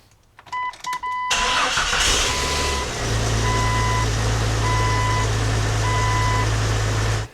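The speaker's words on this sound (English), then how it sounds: "then I can go ahead and start the vehicle" A 2016-2021 Jeep Grand Cherokee engine cranks and catches, then settles into a steady, loud idle while a dashboard chime beeps at regular intervals.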